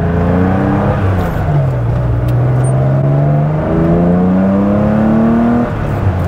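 Vintage Porsche 911 engine note while driving, a loud steady air-cooled drone with rising and falling pitch as the car holds speed and shifts, close and continuous with no talk.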